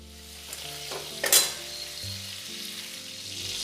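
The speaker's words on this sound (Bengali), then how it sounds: "চিংড়ি মাছগুলো মিডিয়াম করে ভেজে নিয়েছি" Prawns frying in hot oil in a pan, a steady soft sizzle with a couple of brief stirring scrapes, close and fairly quiet.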